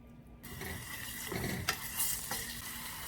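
Crushed garlic dropped into hot onion oil sets off a sudden sizzle that keeps crackling close by. A spoon stirs and knocks against the pan a few times, and nobody speaks.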